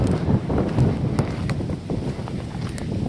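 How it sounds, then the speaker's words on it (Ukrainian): Gusty wind buffeting the microphone in low rumbling bursts, with a few faint clicks and knocks in the background. "Вітер дме."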